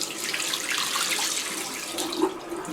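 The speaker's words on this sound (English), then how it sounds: "So we'll put some water on, add a little hot to the mix" Hot tap water runs steadily into a bathroom sink to rinse a light fixture, a continuous close splashing rush with a slight surge near the end.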